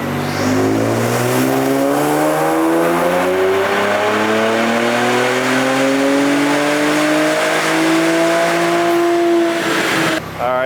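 A VR30 twin-turbo engine on JB4 map 3 with 91 pump gas pulls hard on a dyno, its loud exhaust note climbing steadily in pitch through a long wide-open run before cutting off abruptly.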